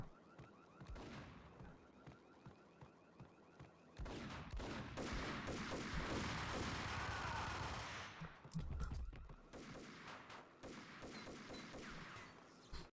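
Gunfire in the Max Payne video game: sporadic shots at first, then a long, loud sustained burst of rapid automatic fire, followed by further scattered bursts and single shots.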